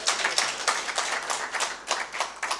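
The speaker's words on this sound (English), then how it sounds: "Please clap for yourselves." Conference delegates at an African regional meeting clap for themselves, a lively burst of many hands with distinct uneven pulses, fairly close and loud, carrying on for a couple of seconds without talk.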